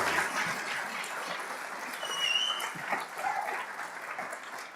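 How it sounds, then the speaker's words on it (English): Steady applause from an audience, a continuous wash of clapping that holds for several seconds. "can we just give them a big round of applause"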